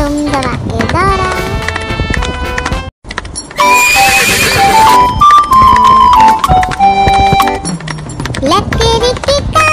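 Horse neighs and clip-clopping hooves sound inside a Hindi children's nursery rhyme, set against continuous loud music with melodic lines and a brief gap near the three-second mark.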